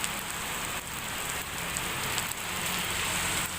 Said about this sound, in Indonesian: Akhirnya Bondowoso diguyur hujan.